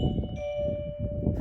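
A SUNUPELEC long-range wireless doorbell chime rings after its button is pressed, a steady bright tone holding through the whole moment over a low background rumble.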